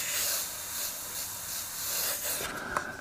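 An airbrush sprays a light dusting of paint onto a painted background as one steady, close hiss that dips briefly near the end.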